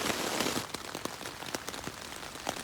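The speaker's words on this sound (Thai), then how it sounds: "ฝนเริ่มบางลงแต่ก็ยังไม่หยุด" Rain patters steadily on a tent at a seaside campsite, with scattered louder drops tapping the fabric over a soft continuous hiss; no talking.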